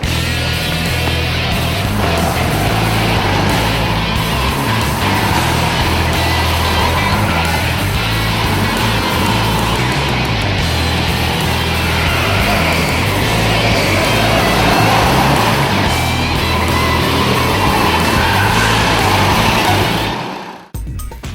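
Race cars at a race track give off a continuous loud engine roar and rumble for about twenty seconds, steady and close, before cutting off abruptly at the end.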